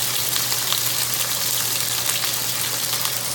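Butter sizzling with olive oil in a pan for seared Atlantic salmon: a steady, bright, crackling hiss that holds evenly throughout, close and moderately loud with no talking.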